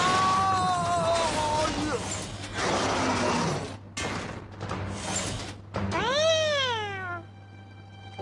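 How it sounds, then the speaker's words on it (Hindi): A cartoon cat gives several meows, ending in a long rising and falling cry, amid clattering cartoon sound effects and speech. "अरे वाह, कितनी प्यारी बिल्ली है"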